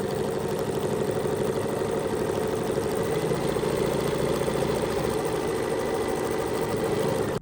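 A sewing machine runs steadily while top stitching fabric, a continuous close mechanical whir and rapid needle chatter with a brief stop near the end.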